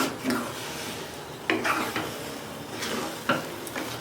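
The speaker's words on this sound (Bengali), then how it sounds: "ভালোভাবে নাড়াচাড়া করে নেব।" Food in a pan, sweetened with a little sugar, is stirred with repeated soft scrapes and taps of a utensil over a faint background sizzle, with no one speaking.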